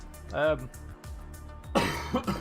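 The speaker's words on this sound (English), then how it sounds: "Can't seem to shake this cough." A man with a lingering cough clears his throat, then gives a harsher cough a moment later, both close and loud, with quieter breathing and small vocal noises between them.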